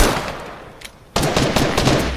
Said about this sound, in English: So I start shooting